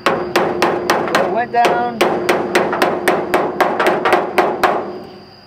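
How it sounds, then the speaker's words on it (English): Hammer taps on the door edge and A-pillar of a rusty 1927 Ford Roadster, a steady series of sharp, loud metallic knocks about every third of a second, with a brief spoken remark partway through. "So I just went around with a hammer like that"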